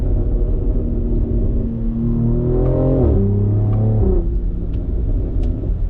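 BMW X3M engine and exhaust rumbling steadily, with a rising rev and a shift change near the middle, close and loud, no talk.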